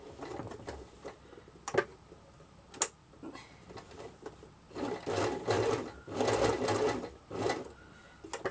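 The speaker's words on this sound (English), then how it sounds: "lift and turn, stitch 1, lift and turn, stitch 1" Domestic sewing machine stitching fabric doll accessories in short bursts, quiet and close, with rapid mechanical clatter separated by pauses and clicks as the fabric is lifted and turned.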